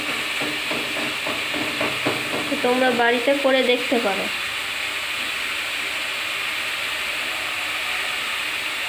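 Red amaranth greens (lal shak) frying in a pan give a steady hiss and sizzle throughout, with someone briefly speaking over the cooking midway.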